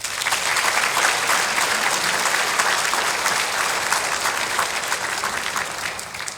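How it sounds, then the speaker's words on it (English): An audience at a city's State of the City address gives a sustained round of applause for fire, police and other city employees, dense loud clapping that holds steady for several seconds and fades slightly at the end. "Let's give them a round of applause."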